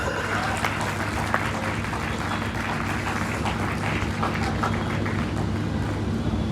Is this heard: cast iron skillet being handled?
no